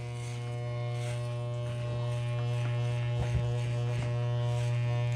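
Electric barber clippers set to number 1 open cutting hair clipper-over-comb during a medium fade, a close steady buzzing hum with brief snips and contact noises.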